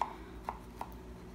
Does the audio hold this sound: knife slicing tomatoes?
yes